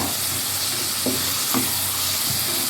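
Food frying in a pan for a quick breakfast dish, a steady sizzle and hiss throughout with a few soft stirring knocks, close and continuous with no talk.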